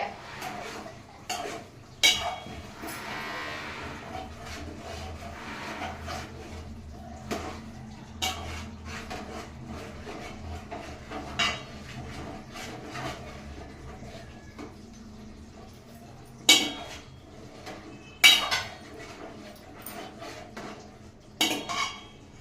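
Chicken biryani being stirred in a pot, with scattered metallic clinks and scrapes of a spoon against the vessel over a low, steady background, and several sharper knocks spaced through the clip.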